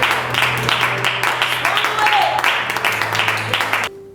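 A church congregation applauds during a Sunday worship service, a steady, dense round of clapping carried alongside a low organ or keyboard drone before cutting off abruptly at the end.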